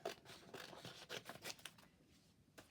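Scissors cutting out paper ephemera, a close, quiet series of crisp snips and paper rustles in an uneven rhythm, with no talk.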